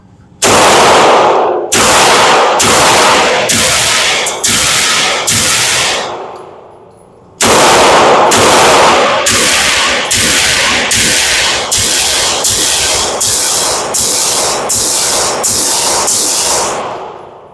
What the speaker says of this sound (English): Firing two 18-round mags.